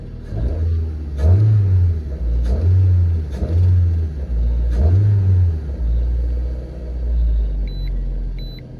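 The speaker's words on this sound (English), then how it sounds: "my idle's a bit accelerated. It's supposed to be at 700, but it's not idling correctly" A car engine idling high and unsteady, above its proper 700 rpm, the rumble rising and falling in slow surges, loud and close with no voices.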